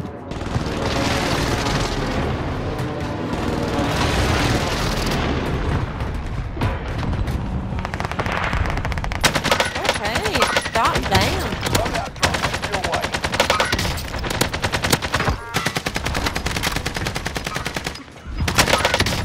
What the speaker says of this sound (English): Allied precision airstrike incoming.